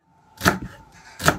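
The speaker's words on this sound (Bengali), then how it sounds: "ওইদিকে শিম কাটছে ভাজার জন্যে।" Flat beans are chopped for frying, two sharp knife strikes on a board a little under a second apart, crisp and close.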